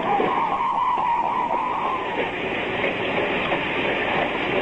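A train runs on rails toward 125th Street, a loud, continuous rumble and rushing roar that stays close and steady throughout, with a brief high metallic squeal early on.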